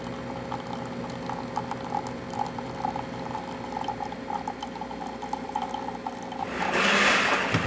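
A Jura Impressa J9 automatic coffee machine, just back from service for an error, brews a shot with a continuous low pump hum and gurgle, then a louder burst of hissing near the end.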